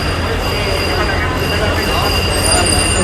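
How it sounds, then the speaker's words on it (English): A train at a station in Valencia makes a loud, continuous rolling rumble, with thin, sustained metallic wheel squeals ringing high above it throughout. "I'm over by the train station."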